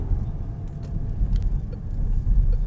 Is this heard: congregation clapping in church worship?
no